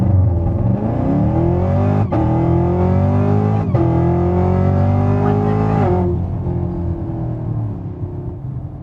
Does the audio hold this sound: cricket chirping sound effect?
no